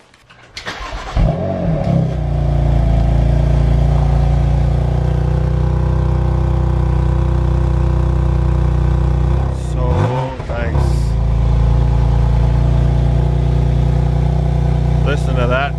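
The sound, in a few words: 2019 BMW M2 Competition engine roar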